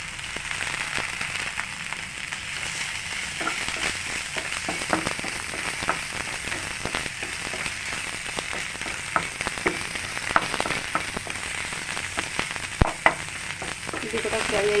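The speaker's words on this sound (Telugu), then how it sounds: "ఈ ఫ్రై దాంట్లో కొంచెం కరివేపాకు యాడ్ చేస్తున్నాను" Curry leaves frying in onion paste for a mushroom curry, a loud continuous sizzle with sharp crackles and pops scattered across it.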